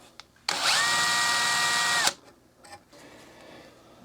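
A drill jeweling a rifle bolt runs in one loud, steady whine for about a second and a half, then cuts off, followed by a few faint clicks and handling noises.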